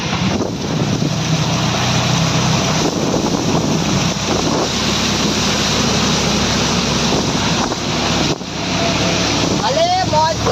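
Floodwater rushes after heavy rain in a loud, continuous roar mixed with wind buffeting the microphone, and a voice speaks briefly near the end.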